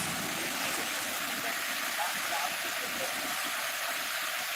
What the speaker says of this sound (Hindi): पानी लबालब भरा हुआ है और बहुत ही तेज़ी के साथ बढ़ते क्रम में बाढ़ आ रहा है